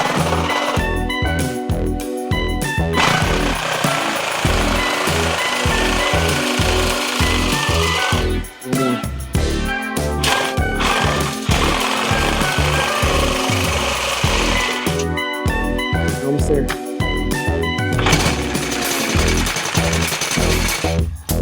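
Power tool sawing through a truck exhaust pipe during an exhaust repair, a loud, continuous grinding and cutting noise with brief pauses, close by throughout.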